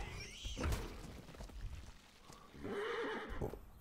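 A horse in the video game Atlas whinnies briefly at a moderate distance, followed by a later snorting, neighing call, with soft thuds and hoof-like knocks scattered between.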